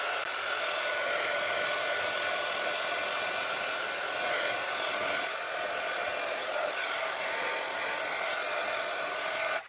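A hair dryer blows steadily and evenly, drying paint on an MDF box with a constant close whir and no pauses until it cuts off at the very end.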